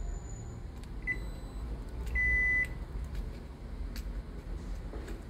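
A microwave oven hums steadily after being switched on following a high-voltage fuse replacement, with a few short electronic beeps and one longer tone standing out over the low drone, heard close with no talk.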